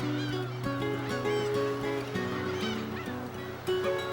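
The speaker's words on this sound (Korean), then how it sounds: "몸집이 작은 암컷의 울음소리는 짝짓기할 준비가 됐다는 신호다." Black-tailed gulls on Dokdo give a steady stream of nasal, honking calls, and a female's calls signal readiness to mate. The cries are held and overlapping and sound close, over a constant colony din, with no talking.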